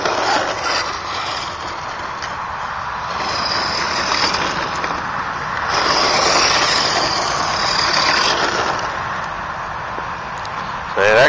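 An electric Automodelo ZMT-10 RC truggy drives around on gravel with a rising and falling whir and rough crunching noise, a voice talking over it.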